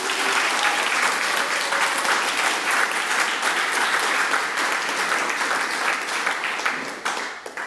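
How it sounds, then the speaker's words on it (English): A large audience at a tourism industry event claps loudly in sustained applause, a dense steady roar of hands that continues without talk and tapers slightly at the end. "can I have a massive round of applause"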